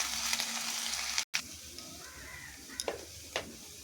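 Grated ginger frying in a pan makes a steady close sizzle with a few light stirring clicks and a brief cut near the middle.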